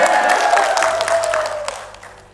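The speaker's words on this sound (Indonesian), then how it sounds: "Tepuk tangannya dong." Audience applause at an Indonesian entrepreneurship seminar, steady dense clapping that carries loudly through the clip and thins out toward the end.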